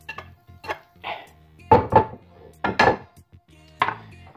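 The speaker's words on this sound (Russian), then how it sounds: "я просто разворачиваю сковороду и сошкребаю все с нее вертикально" A spatula repeatedly scrapes and knocks against a frying pan to lift fried eggs, a series of sharp, close scraping clatters with pauses between them.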